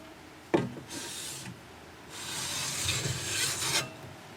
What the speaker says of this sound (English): where you've just been filing off everything, you get lots of burrs on each side